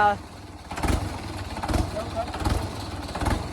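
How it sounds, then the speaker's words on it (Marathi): Tractor engine running in a rice field, a low rumbling idle with regular heavy chugging pulses roughly every second, close by. "आता ट्रॅक्टर चालू राहिला आहे तर बघा आता"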